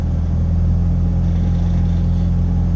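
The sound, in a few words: pickup truck engine idling, fan hitting housing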